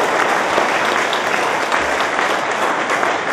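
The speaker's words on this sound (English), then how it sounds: "give a round of applause to our teachers" Sustained applause from an audience at a school fundraising event, steady and dense clapping filling the room throughout with no pauses.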